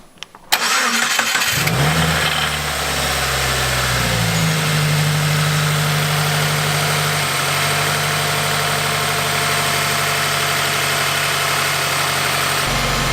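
A 2016 Subaru WRX fitted with Perrin parts cranks briefly and fires up, its engine revving high and then dropping in steps to a steady, close idle that holds for ten seconds.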